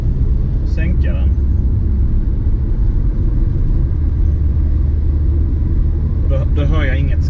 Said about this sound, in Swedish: Och då provar jag att öka gasen. Och sänka den.